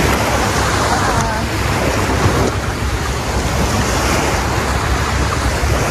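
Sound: ocean waves on a beach at Phu Quoc

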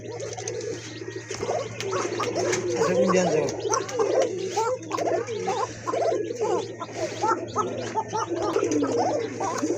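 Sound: pair of Koka pigeons cooing

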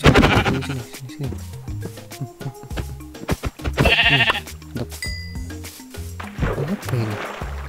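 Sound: sheep bleating in Minecraft video game

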